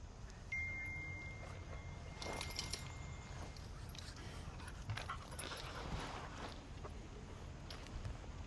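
A happy dog panting outdoors during a potty break on an e-collar training walk, a steady soft rhythmic breathing close by with light background noise throughout.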